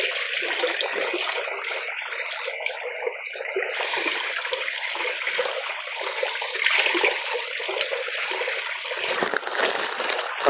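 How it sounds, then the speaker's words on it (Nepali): Water splashing and running steadily into a container outdoors, a continuous close hiss and gurgle that swells slightly near the end, with no talking. "दाइ यतातिर पानी भर्दै हुनुहुन्छ दिदीको लागि।"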